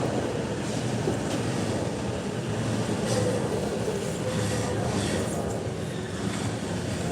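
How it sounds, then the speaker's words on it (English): A train pulls away from Yokohama Station with a continuous rumble and a steady rolling clatter that holds close and loud throughout, with faint station ambience behind it. "we'll say goodbye as the train rolls instead."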